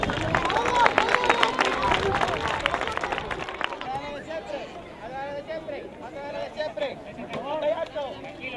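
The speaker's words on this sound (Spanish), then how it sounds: "Muy bien, un aplauso para ellos" Audience applause and crowd noise at a live event honoring a Guardia Civil self-defence team from Ciudad Real, with dense clapping strongest in the first half and fading under continuous voices and chatter.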